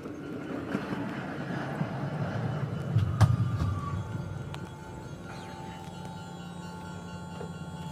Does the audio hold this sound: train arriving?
yes